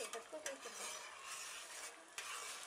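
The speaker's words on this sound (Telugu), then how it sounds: "రవ్వను వేస్తూ గరిటెతో ఉండలు లేకుండా ఇలా కలుపుకుంటూ ఉండాలి" A ladle scrapes and swirls semolina through boiling water in a wide pan, a close, steady stirring hiss with soft clinks, with no talking.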